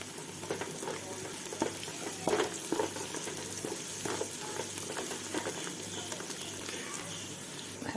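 Spices sizzle and fry steadily in a pot of hot oil while cooking mutton pulao, a close, continuous crackling hiss with small pops and stirring clatter throughout.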